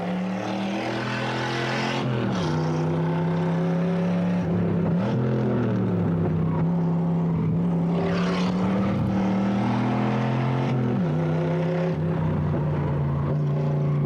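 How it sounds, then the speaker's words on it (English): Onboard sound from the number 42 Camaro race car on the Toronto Indy street circuit, a loud, continuous engine howl that dips sharply with gear changes and braking, then climbs again as the car accelerates, with no talking. "And now we ride with Richard Spenard in the number 42 Motor Master Camaro as he heads down towards turn 3."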